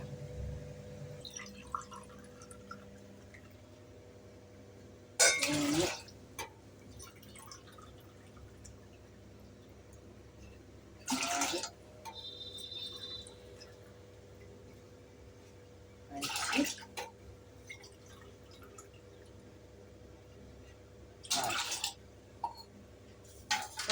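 Water poured in separate splashing bursts into a pot of mutton biryani being cooked, four short pours spaced several seconds apart over a low kitchen background hum.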